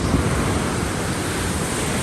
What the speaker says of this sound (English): when I'm looking at these ocean waves